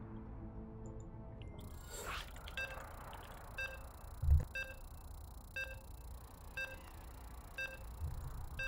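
StarCraft II match loading up in a tournament grand final on the Oceanborn map: a steady series of short electronic beeps repeating at even intervals, clear and moderately loud with no talk.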